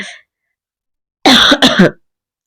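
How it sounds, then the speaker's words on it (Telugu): A short throat sound at the start, then after a pause a loud, close burst of two or three harsh coughs in quick succession. "సారీ దగ్గ ఏదో వస్తుంది తగ్గట్లేదు"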